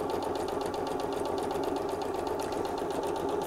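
Close and fairly quiet, a sewing machine hums continuously as it runs a straight line of stitching through two layers of fabric for a tea cosy, its fast, even needle rhythm never breaking.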